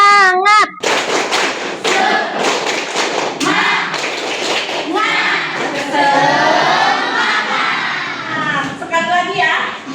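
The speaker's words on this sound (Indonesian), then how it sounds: "berdiri dulu, kita tepuk semangat" A classroom of children standing to do the rhythmic "tepuk semangat" spirit clap, sharp patterned claps in quick bursts mixed with a teacher's voice and children chanting along, close and lively.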